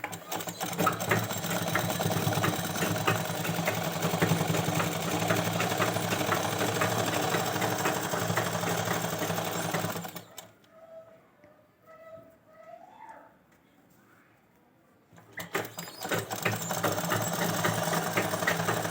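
A sewing machine runs steadily with doubled thread, stitching a fancy baby gown for a two-year-old girl, then stops for a few seconds of quiet handling before the motor starts up again.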